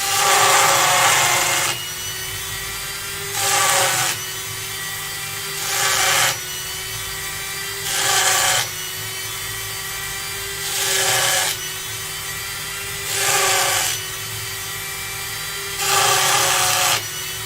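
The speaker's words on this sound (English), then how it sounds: "This is just an Axminster cheap power chisel." A cheap Axminster power chisel carves texture into a wooden box in repeated bursts of about a second and a half, each a loud, buzzing rasp, separated by quieter pauses with a low motor hum and no talking.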